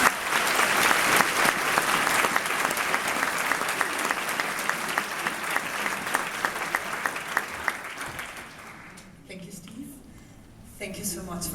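An audience at a theatre at the Toronto film festival applauds a guest with sustained, dense clapping that thins out toward the end, and a voice speaks over it.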